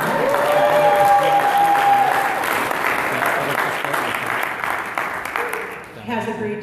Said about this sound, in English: Our current treasurer, Scott Ryman, who deserves a huge round of applause at this juncture